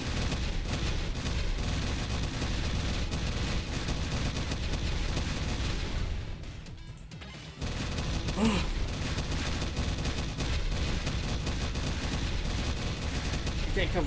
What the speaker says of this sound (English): Just having to dodge the gunshots just a little bit.